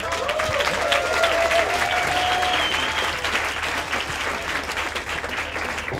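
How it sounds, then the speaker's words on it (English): Audience applause at a climate event, six seconds of steady dense clapping from a sizeable crowd, with a few whistles and cheers near the start. "Applause, please, for them."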